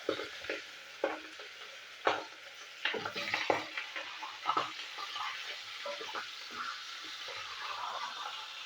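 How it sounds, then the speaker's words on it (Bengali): Fish heads drop into hot oil and fry with a close, continuous sizzle, broken by scattered crackles and pops and occasional stirring scrapes, with no talking. "তেলও গরম হয়ে গেছে, তো এই মাছের মাথাগুলো এবার ছেড়ে দেবো তেলের মধ্যে।"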